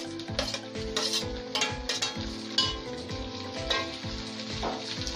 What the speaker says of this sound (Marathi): हाय फ्लेमवर कांदा चांगला असा परतवत राहायचा आहे